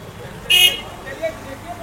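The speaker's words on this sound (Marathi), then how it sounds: "बघा अशा हॉर्न मारतात सगळीकडे." A vehicle horn gives one short, loud honk in a narrow lane in Varanasi, with softer traffic noise and a fainter toot after it, and people talking nearby.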